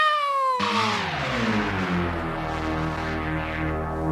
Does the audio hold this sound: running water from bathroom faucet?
no